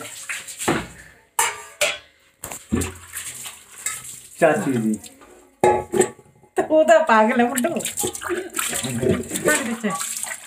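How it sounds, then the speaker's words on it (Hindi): Dishes and pots are washed in a village home: metal utensils clink and scrape in bursts while water splashes and runs, with people talking over the clatter. "ये भी बर्तन साफ कर रहे हैं"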